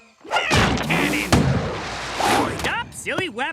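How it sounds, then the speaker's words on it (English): A loud, booming blast from a cartoon-style cannon, surrounded by whooshing effects and sliding, whistle-like tones of animated voices. "Cannon!"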